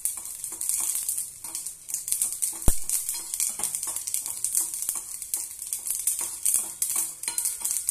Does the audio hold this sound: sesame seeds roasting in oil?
yes